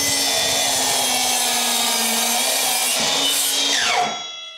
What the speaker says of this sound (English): we're gonna bevel the saw and see how that performs with the trim and with the 2x material.